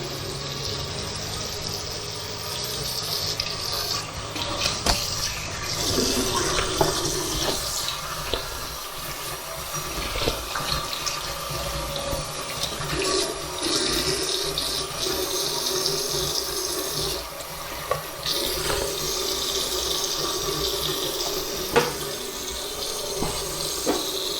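Tap water runs steadily into a sink as a squid is washed under it, a continuous splashing hiss with small shifts as the flow is disturbed, fairly close and without speech.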